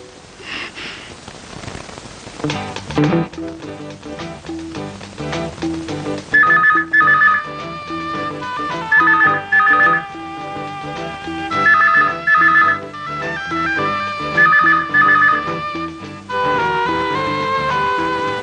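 A telephone rings in repeated bursts, loud and close, over a steady musical score with no talk.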